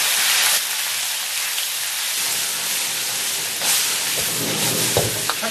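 Chicken pieces stir-fry in hot oil in a wok, giving a steady loud sizzling hiss throughout with a few brief scraping and tossing surges.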